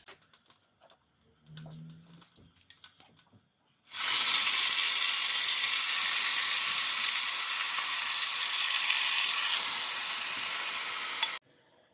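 White cumin seeds drop into hot oil and burst into a loud, steady sizzle that lasts about seven seconds and then cuts off, after a few faint clinks and soft handling noises.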